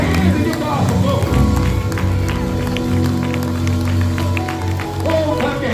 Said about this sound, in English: Come on and clap your hands and give God some glory.